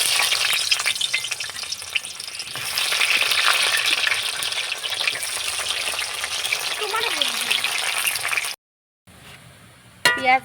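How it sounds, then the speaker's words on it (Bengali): Onions frying in hot white oil in a wok, a loud steady sizzle with hissing bursts and occasional stirring scrapes, broken by a brief silence near the end before a short resumption. "এখন আমি পেঁয়াজগুলো ভেজে নেব।"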